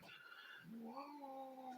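Cats yowl and caterwaul at each other in a fight, a drawn-out rising and wavering cry following an earlier strained whine, close and fairly loud with no talking.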